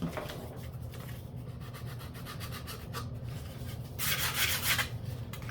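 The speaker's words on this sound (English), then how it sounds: "Sandpaper is pretty wore out. Usually it comes off easier." Worn-out sandpaper rubs back and forth over a glossed part in a continuous, close scratchy rasp that grows louder and harsher for a moment toward the end.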